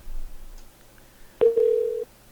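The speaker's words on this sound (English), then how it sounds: "Can you guys hear the phone ring?" A single short telephone ring chirps on an office line, a steady electronic tone lasting about half a second over a quiet, faintly hissing background.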